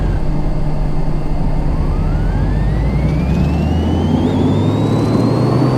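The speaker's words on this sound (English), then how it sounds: "Oh, that's a terrible whine." Car engine revving on a dyno in Car Mechanic Simulator 2018, a loud, steady drone with a high whine that climbs gradually in pitch as the revs build, continuous and close.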